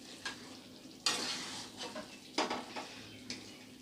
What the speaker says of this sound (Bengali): তো আরেকটু আমি কষিয়ে নেব